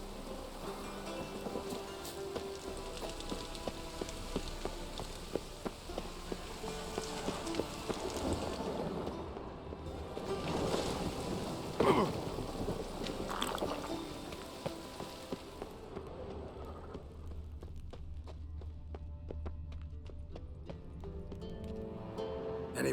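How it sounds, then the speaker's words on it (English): Steady rain with low rumbling thunder during a storm in The Witcher 3 game world, continuous and fairly full, with scattered sharper drips and a brief swell of rumble midway. "A storm, damn it."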